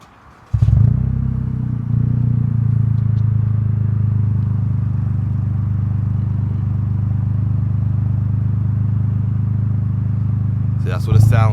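A Toyota GR Corolla fitted with a 2J Racing exhaust fires up with a sharp start, then settles into a steady, loud, deep idle that holds until a brief blip at the end.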